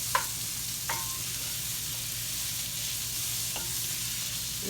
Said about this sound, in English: Just gonna sweat these onions down just a little.